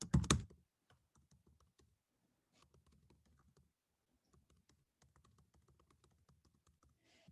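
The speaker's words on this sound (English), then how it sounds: "the way that they can provide comments and share is by typing" Typing on a computer keyboard while adding a comment in an online collaboration tool: a loud burst at the start, then soft, quick clusters of key clicks in several separate runs, with no talking.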